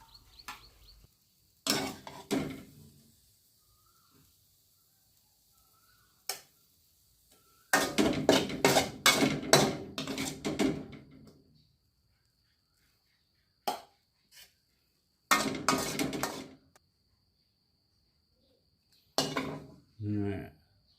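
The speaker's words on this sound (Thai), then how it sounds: "มาตักใส่จานกันเลยครับ" Clattering scrapes and knocks of a utensil against a pan and plate as stir-fried mixed vegetables with instant noodles are scooped out, coming in short bursts separated by quiet pauses.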